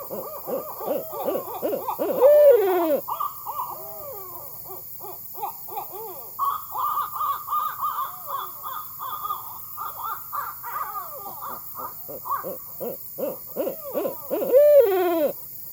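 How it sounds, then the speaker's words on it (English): Two barred owls trade loud, rhythmic hooting calls back and forth, breaking into excited, cackling bursts of caterwauling with no other voices present. "if you have a pair of barred owls in your neighborhood, you might hear this"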